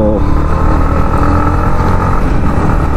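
A new Yamaha MT15 BS6 motorcycle engine runs loud and steady at a sustained rev, with a dense continuous drone and no one talking.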